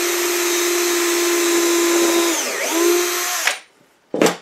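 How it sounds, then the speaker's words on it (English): A power drill bores a pilot hole through wood for a bluebird birdhouse. It whines loudly and steadily for about three and a half seconds, dips briefly in pitch partway through, then stops, followed by one short final burst. "We'll drill another little pilot hole through,"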